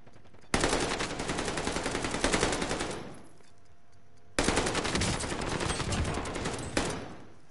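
Automatic gunfire in Call of Duty Warzone: two long, loud bursts of rapid machine-gun fire, each lasting a few seconds and separated by a short quiet gap, with no talking.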